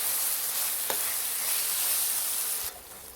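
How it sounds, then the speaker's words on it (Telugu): Ginger garlic paste fries in a pan for spicy country chicken curry, a loud, dense, steady sizzle close up with a brief stir clatter, fading slightly at the end. "ఇదిగోండి జింజర్ గార్లిక్ పేస్ట్ కూడా బాగా ఫ్రై అయిపోయిందండి"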